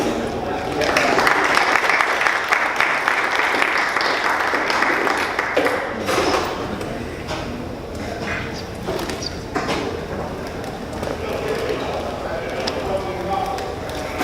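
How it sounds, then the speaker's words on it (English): An audience at a talk on sustainability and resiliency claps in a dense, sustained round of applause that holds steady throughout, with a few voices mixed in. "So let's give Sandor a round of applause."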